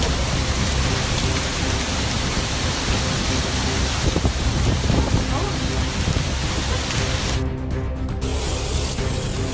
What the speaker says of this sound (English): heavy rain is causing flash flooding on roadways in southwestern Oklahoma